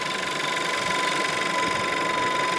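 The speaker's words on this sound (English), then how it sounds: "The engine's running." A 2013-era style Audi A3 1.4 TFSI Sport automatic, 148 bhp petrol engine, idles steadily with the bonnet open, a smooth continuous hum with a faint high whine and no talk over it.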